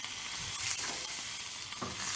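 Italian sausages sizzle on a Blackstone griddle, giving a steady, close, broadband hiss that holds evenly throughout.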